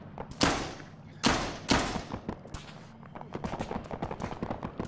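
Gunfire in Arma 3 on the Tanoa map: three heavy, distant-sounding shots with echoing tails, then a rapid spatter of lighter, faster rifle or machine-gun fire rolling on behind them.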